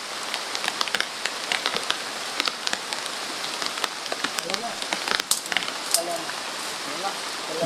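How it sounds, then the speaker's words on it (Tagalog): Steady rain falls and patters on nearby surfaces, a dense continuous hiss with scattered sharper drop hits, while someone speaks briefly over it. "Oh, umuulan."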